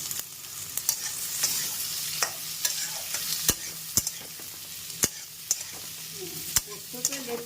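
Potatoes fry in a pan for aloo posto with a steady soft sizzle, while a utensil stirs and scrapes in repeated sharp knocks and scrapes close by.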